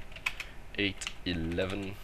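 Soft keystrokes tap on a computer keyboard in short bursts, faint and close, interleaved with a voice speaking.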